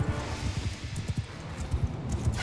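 Cavalry horses' hooves thud and clatter in a fast, irregular rhythm during a Mount and Blade II Bannerlord battle, loud and close, with overlapping strikes from several mounts in the melee.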